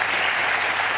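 Studio audience of a Turkish TV talk show applauding, a loud, dense burst of clapping with no speech over it.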